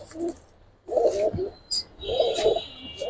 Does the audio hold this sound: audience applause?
no